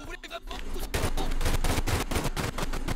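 Enemy gunfire in the video game Uncharted 4 bursts out in loud, rapid automatic volleys, with a few separate shots first and then dense sustained fire, while a voice talks faintly underneath.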